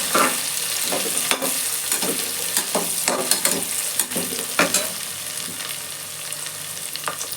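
Ginger, garlic and green chili fry in a pan for peas pulao, giving a loud, continuous close sizzle broken by frequent stirring scrapes and clicks.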